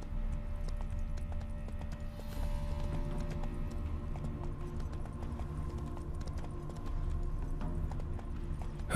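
Geralt's horse Roach gallops in The Witcher 3: Wild Hunt, rapid rhythmic hoofbeats pounding continuously and close over a loud steady bed of game ambience.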